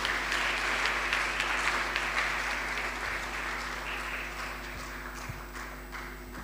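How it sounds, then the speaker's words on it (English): Lecture audience applauding a speaker at a memorial lecture hall in Ghana, steady dense clapping that holds throughout and fades slightly toward the end, with no talk over it. "Ladies and gentlemen, a round of applause for our speaker."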